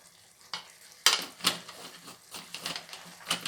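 Chili powder and coriander powder fry in hot oil for a chicken curry, heard as crackling sizzle with sharp scraping strokes of a spoon stirring in the pan, close and fairly loud, with no talking.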